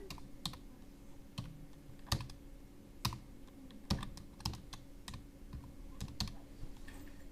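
Keys clicking on a computer keyboard in an irregular rhythm of single taps and short bursts, fairly close and quiet, with no talking.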